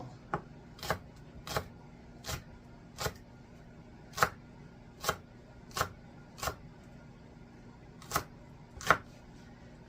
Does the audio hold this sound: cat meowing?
no